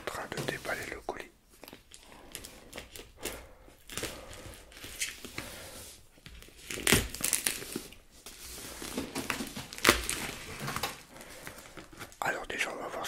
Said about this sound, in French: Je suis en train de déballer le colis.